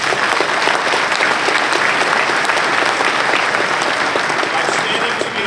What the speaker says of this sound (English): And yes, this is something that we should applaud by.